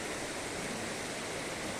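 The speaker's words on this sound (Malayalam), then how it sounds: "വെള്ളത്തിൻ്റെ ഓരോ കളികളാണ് ഈ കാണുന്നത്." Indoor water fountain features inside Mall of Qatar make an even, steady rush of falling water that fills the space, with no voices.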